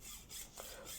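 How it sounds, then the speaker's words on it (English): A saw rasps faintly through the cable of a Halfords Advanced combination bike lock in short, repeated back-and-forth strokes. "What you can see is me sawing through the cable"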